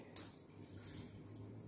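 Water is poured from a tap into a chili, mint and ginger paste in a home kitchen, a steady close splashing stream that starts with a brief clatter and runs on alone.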